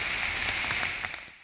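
Heavy rain pours at Payra port and Kuakata in Patuakhali as a dense, continuous hiss of drops on surfaces, steady and fairly loud before easing slightly at the end.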